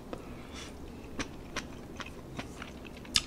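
Quiet, steady crunching of crisp veggie snacks, with sharp bites spaced about every half second over low background noise.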